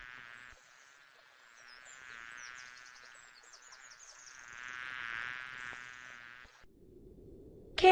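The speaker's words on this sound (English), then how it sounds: "Here is a bee." A bee buzzes in a steady, wavering drone that swells and fades over about six seconds, close and fairly quiet, then stops and leaves near silence, with no speech.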